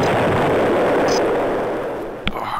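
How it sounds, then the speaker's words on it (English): A heavy, sustained explosion rumble from EMP torpedoes striking a ship in the space game EV Nova, loud and dense, fading slowly before a sharp secondary impact near the end. "those EMP torpedoes really wreak havoc on this ship"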